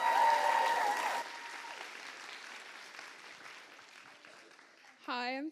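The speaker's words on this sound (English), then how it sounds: "One more time for Kaylin, please." Applause rings out at a student conference, loud at first and then thinning into scattered clapping that fades toward quiet, before a single voice begins speaking at the very end.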